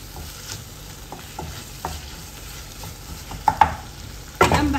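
Yellow lentils are stirred and fried in a pot, a soft continuous sizzle broken by repeated scraping strokes of a spoon and a couple of louder clanks near the end, no voices.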